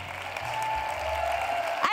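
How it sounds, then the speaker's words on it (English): Conference audience applauds the speakers leaving the stage, a dense even wash of clapping, moderately distant, with a low hum beneath it and a brief louder knock at the end. "A round of applause for the speakers,"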